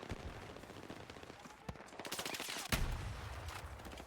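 Bursts of rapid gunfire in Battlefield 6 Beta crackle in quick strings, with a sharp loud shot near the end, over a noisy background.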